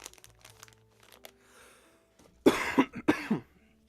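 One person coughs several times in a quick, harsh burst near the microphone. Before it comes a quiet stretch of faint rustling and soft background sounds.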